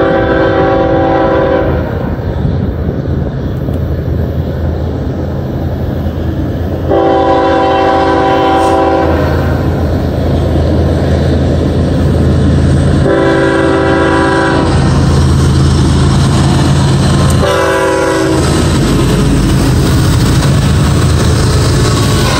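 A long westbound Norfolk Southern mixed manifest freight led by a BNSF locomotive rolls past on the near track, loud and continuous, with several long horn blasts sounding over the steady rumble of the cars.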